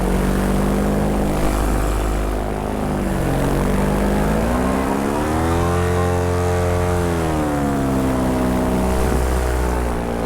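A paramotor engine and propeller drone loud and steady in flight, with the pitch dipping and rising as the RPM is lowered with trimmers pulled in.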